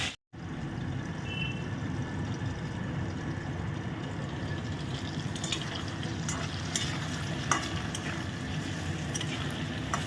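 Potatoes fry in oil inside a covered pan, giving a steady, muffled sizzle that holds evenly throughout, with a few light clicks and pops rising toward the end.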